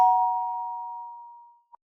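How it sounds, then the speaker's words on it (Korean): An apartment doorbell sounds once as a clear electronic chime, a steady tone that decays over about a second and a half, followed by a faint short blip; no talking. "방금 초인종 소리가."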